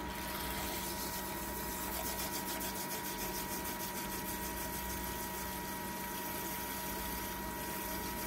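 A makeup brush cleaning gadget spins a brush in water, giving a steady, continuous motorized whir and watery churn that runs unbroken throughout at moderate level.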